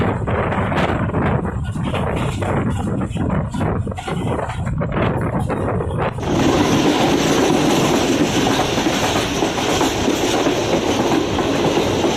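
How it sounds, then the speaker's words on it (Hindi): The Karachi Express rushing through Shujabad station at speed, loud close rumble and rapid clickety-clack of wheels on rail with wind buffeting, the roar deepening and filling out midway through. "तो बस अच्छी खासी स्पीड में कराची एक्सप्रेस ने शुजाबाद स्टेशन स्किप किया।"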